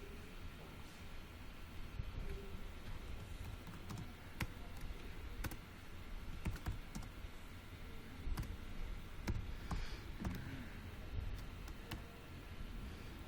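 Typing on a computer keyboard while entering a function in Mathematica, a steady run of soft, close key clicks and taps over a low background hiss.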